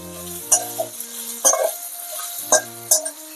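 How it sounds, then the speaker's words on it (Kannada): Potatoes frying in hot oil with mustard seeds in a home kitchen pan, a soft steady sizzle broken by several metallic clinks of stirring, with a sustained tone running underneath. "ಆಲೂಗಡ್ಡೆ ಹುರಿತಾ ಇದ್ದೀನಿ."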